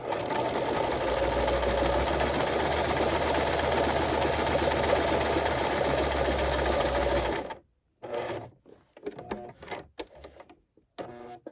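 A sewing machine stitches a buttonhole in fabric, running loud and steady for about seven seconds, then stopping; a few short, uneven bursts of stitching follow as the end is finished.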